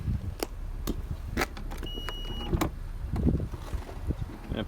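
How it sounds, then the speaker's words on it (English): Power lift gate on a 2018 Honda CR-V 2WD EX-L running, a faint motor whine and mechanical clunks close by amid scattered knocks and background rumble, with no talking. "And a power lift gate."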